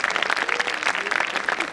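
A short burst of dense crowd clapping fills a wellness conference valedictory hall, even and continuous throughout at moderate loudness.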